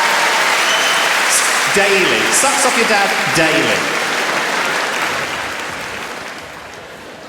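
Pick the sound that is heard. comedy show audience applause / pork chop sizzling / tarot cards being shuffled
comedy show audience applause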